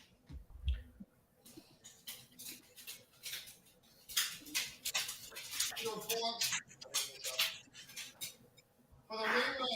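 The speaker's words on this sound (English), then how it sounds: "Is that your dog scratching to get in, JR?" A dog scratching and pawing at a door to get in, with scattered scrapes and soft whimpers running through the clip beneath intermittent voices.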